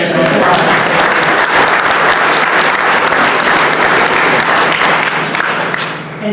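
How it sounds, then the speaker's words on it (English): A large audience gives David Weil, the new Wage and Hour Administrator, a sustained round of applause at a policy speech, dense clapping that holds evenly and tapers slightly at the end. "So I think that deserves another big round of applause"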